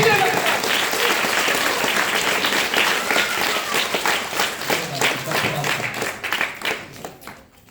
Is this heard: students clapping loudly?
yes